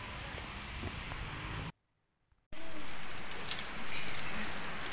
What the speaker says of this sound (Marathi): बघा किती मोठा पाऊस पडतोय